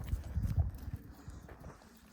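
Donkey hooves clop softly on the ground as it walks slowly nearby, a few muffled uneven steps fading out.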